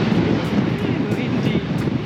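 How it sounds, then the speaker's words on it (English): Strong wind at Port Denison Harbour as a storm approaches, a steady loud roar buffeting the microphone, with a low rumble and faint brief hisses throughout. "Windy."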